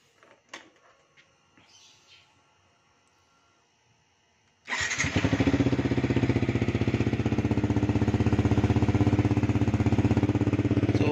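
Yamaha XSR 155 motorcycle with a Yoshimura R77 exhaust starts up after a few seconds of quiet clicks, then settles into a loud, steady, throbbing idle close by, with no talk.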